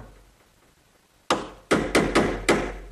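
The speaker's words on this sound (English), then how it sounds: "And then just using a chisel, I'll remove the right amount of material." Five sharp, hard knocks land in a quick, uneven burst as a chisel is driven into oak to cut a hinge recess, loud and close after a quiet pause.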